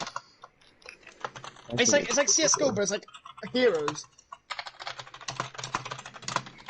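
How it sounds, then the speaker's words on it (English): Loud, rapid typing on a computer keyboard during a gaming podcast, with dense bursts of clacking keys running under and between people talking. "I'm sorry, I type loudly."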